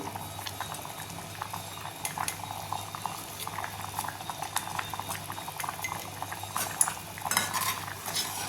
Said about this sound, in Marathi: डाळीला छान उकळी आली आहे